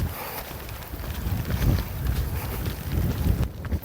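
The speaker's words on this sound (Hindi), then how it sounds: "क्योंकि बहुत तेज हवा है, छतरी भी काम नहीं कर रहा है।" Strong gusting wind buffets the microphone at a hilltop fort during stormy weather, a continuous loud roar and rumble with irregular surges, alone without speech.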